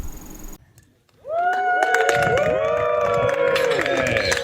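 Crowd applauding and cheering as six astronauts leave a desert Mars-simulation training station, a brief drop to near silence followed by a dense, lively mix of clapping and voices.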